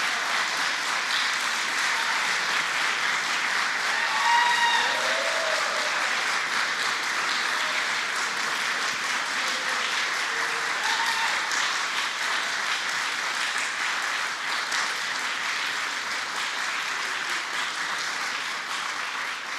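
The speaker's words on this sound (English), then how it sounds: "Give yourselves a round of applause." Sustained applause from a large audience at a governor's public announcement on reopening, steady and full throughout with no voices over it.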